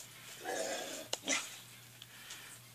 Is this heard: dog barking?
yes